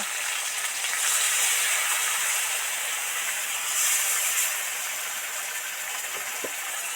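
Steady sizzling hiss of spice paste frying in a pan with potatoes and tomatoes for a prawn dish, continuous and fairly loud throughout, with no talking over it.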